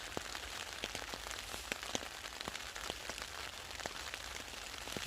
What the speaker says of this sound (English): At last, the rain has started.